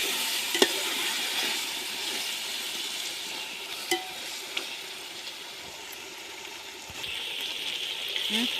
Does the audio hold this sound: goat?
no